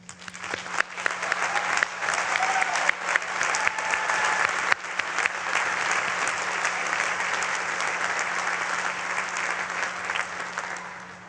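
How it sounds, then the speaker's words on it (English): A large audience applauds graduates at Bridgewater State University's 2018 graduate commencement, sustained dense clapping with a few sharper claps early on, swelling quickly then holding steady before fading at the end. "please join me in a round of applause for our"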